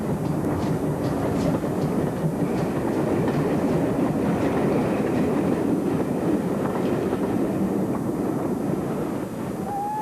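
A 1600 class pannier tank steam locomotive rumbles past at steady volume, a continuous broadband roar with faint rhythmic clatter of wheels over rail joints and some wind buffeting the microphone throughout.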